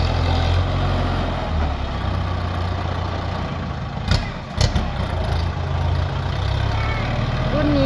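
A Kubota L5018 DT tractor, a 2016 model, idles with a steady low diesel rumble throughout, interrupted briefly by a couple of short knocks near the middle.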